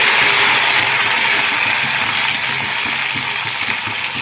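Garlic cloves, curry leaves and coriander frying in hot oil for an eggplant curry: a loud, continuous sizzling hiss that stays even throughout and tapers only slightly.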